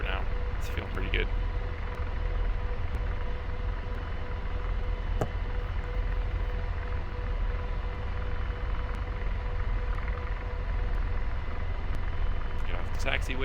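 AH-64D Apache helicopter hover taxiing in a video game, a steady, loud rotor and turbine drone that holds evenly throughout with a couple of brief clicks near the start and end.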